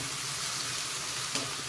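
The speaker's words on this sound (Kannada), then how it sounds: "ನಾವು ಇದನ್ನು ಎಣ್ಣೆಯಲ್ಲಿ ಈಗ ಫ್ರೈ ಮಾಡ್ಕೋಬೇಕಾಗತ್ತೆ" Oil sizzles steadily in a pan as chopped tomato frying in it crackles, a continuous close hiss with one brief sharper spatter near the end.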